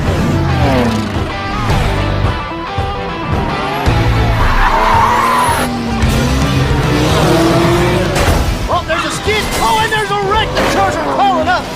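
Race car swerving and skidding in The Crew 2 video game: loud tire squeals and skids over a roaring engine, with energetic voices talking over the action throughout.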